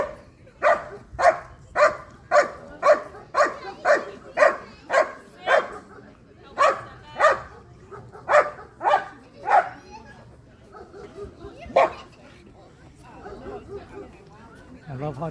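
German Shepherd dogs bark at an IGP demonstration during a breed specialty event, a close run of about a dozen evenly spaced loud barks followed by a few sparser ones, with people talking underneath.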